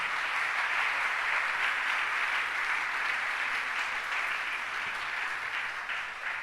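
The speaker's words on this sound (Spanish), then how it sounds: "denle un aplauso al Señor si quiere hacerlo" A church congregation applauding in unison, a broad, steady roar of clapping from many people that carries on evenly for several seconds and fades slightly at the end.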